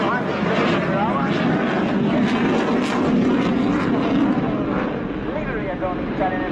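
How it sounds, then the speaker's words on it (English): Italian Air Force Panavia Tornado A-200 making a very slow, low flypast at an airshow, a loud continuous jet engine roar filling the whole span, with a commentator talking over it. "This slow flypast at the lowest possible speed, around 100 km per hour."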